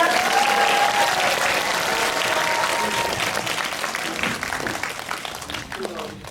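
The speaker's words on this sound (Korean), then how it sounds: "저희 같이 함께 박수 치면서 이 자리 마감하도록 하겠습니다" An audience claps to close a film guest-visit event at Lotte Cinema World Tower: a dense, steady wash of applause from many hands that thins slightly toward the end.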